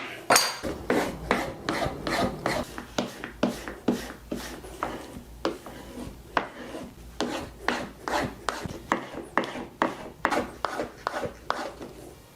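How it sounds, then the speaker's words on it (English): A plane blade being stropped for a Stanley No. 40 scrub plane gives a series of rhythmic rasping strokes, back and forth at a steady pace, close and fairly quiet, with no voices. "just a little bit of stropping"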